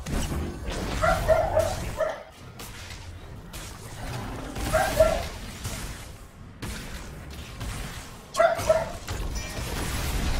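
A dog barks in three short clusters of sharp, yipping barks, spaced a few seconds apart. The barks are fairly close and come over a low murmur of background noise.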